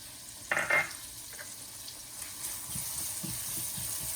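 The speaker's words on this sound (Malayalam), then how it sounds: "ചോപ്പ് ചെയ്ത് വെച്ചിരിക്കുന്ന ഉള്ളി ആഡ് ചെയ്യാം" Chopped onion going into a hot pan for paniyaram, a soft, steady sizzle and fry with a few stirring clinks, quiet and close.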